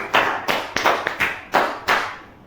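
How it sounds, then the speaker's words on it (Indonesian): A small class claps for a presenting group in sparse, separate bursts, about six distinct clusters of hand claps spaced roughly half a second apart, close and fading at the end. "Beri tepuk tangan untuk kelompok 4 karena sudah berani maju"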